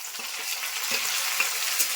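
Turmeric-and-salt marinated fish pieces going into frying onions in a pan, a steady close sizzle with a few soft stirring scrapes and clinks, no voices.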